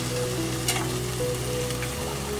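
Grated coconut fries with mashed tomato in a hot pan, giving a steady close sizzle as the mixture is stirred, with a low background hum.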